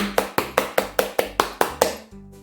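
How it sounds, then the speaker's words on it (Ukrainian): Nine sharp hand claps in a steady, quick rhythm, close and loud, followed by a brief pause, with no talking over them. "І зробили оплески."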